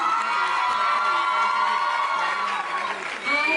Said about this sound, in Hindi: एक बार जोरदार तालियों से बता दीजिए everybody